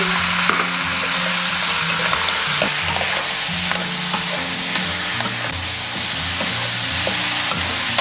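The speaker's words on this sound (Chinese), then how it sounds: "炒出香味过后，加入料汁，" A braised beef dish tossed in a wok with ginger slices and star anise after sauce is added, a loud, continuous close sizzle with light clinks and scraping as it is stirred.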